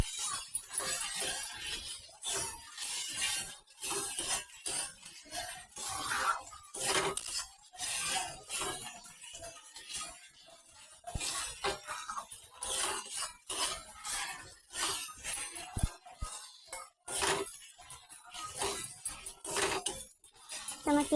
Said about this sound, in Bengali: টমেটোটা দিয়ে কিছু সময় একটু নাড়িয়ে নেব।